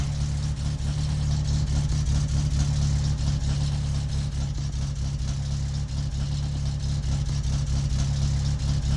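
A car engine idles with the choke off in My Summer Car, a steady, unbroken low hum that holds an even level throughout with no talking.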